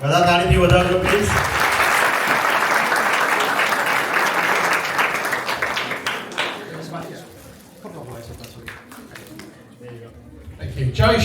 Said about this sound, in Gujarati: બધા તાળીથી વધારજો પ્લીઝ